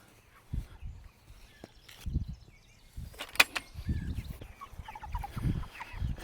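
Backyard chickens near their water and feed barrels, giving soft scattered clucks at a low level amid quiet rustling and a brief sharp knock.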